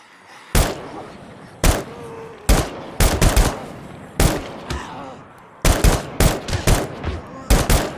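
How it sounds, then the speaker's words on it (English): Sharp, loud bursts and booming impacts in irregular clusters over a rumbling background, the zombie horde spawn cue in the game SCUM amid gunfire-like blasts. "There's the sound, so the Horde's going to spawn"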